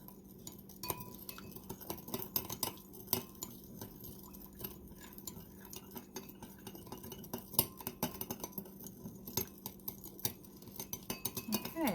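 Spoon clinking against a glass bowl while stirring sugar to dissolve it for a cucumber mint salad, with irregular light taps and scrapes under quiet talk.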